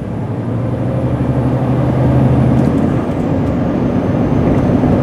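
A 2018 Renault T High T480 truck's diesel engine drones from inside the cab. Its low tone drops and settles partway through as it shifts gear, over a steady rumble of road and wind noise.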